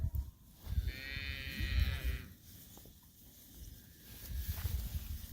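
Cattle low in a grazed pasture: one clear, drawn-out moo rises partway through, with wind and field noise around it and another fainter call near the end.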